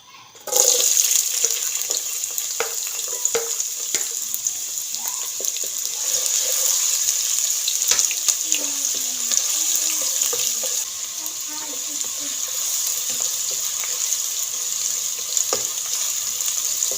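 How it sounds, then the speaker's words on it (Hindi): Onions frying in hot oil for an eggplant pickle-style dish, a steady loud sizzle running throughout with small scattered crackles, close and continuous, no talking. "प्याज डाल के हम इसको फ्राई करेंगे"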